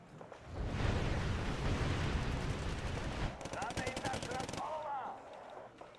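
Gunfire in a turn-based strategy video game, a burst of rapid evenly spaced shots starting midway after a rumbling build-up, ending in a ringing tail.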